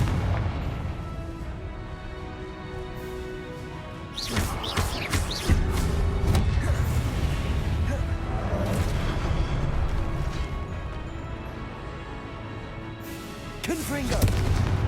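Spell-casting blasts from the fantasy action game Hogwarts Legacy, a Confringo fire spell among others, heard as repeated booming bursts and crackling impacts over game music, with voices calling out spells.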